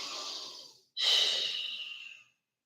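Deep breathing during a vinyasa yoga flow comes close and clear as a long, airy exhale, a short pause, then a fuller breath that trails off into silence.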